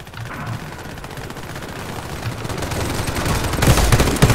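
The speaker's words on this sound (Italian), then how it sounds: "gli ho sparato due colpi e ah, non è morto" Rapid gunfire in the online shooter Warface, bursts of automatic shots crackling continuously and growing louder and denser toward the end, with heavier close reports in the final second.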